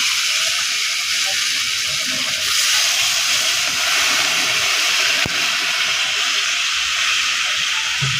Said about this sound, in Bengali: হয়ে গেছে এবার জল দিয়ে নিচ্ছি